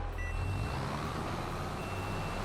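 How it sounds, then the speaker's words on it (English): A farm vehicle in Farming Simulator 22 sounds a steady electronic beep over a constant low engine rumble, loud and close throughout. "I don't know what that beeping sound is."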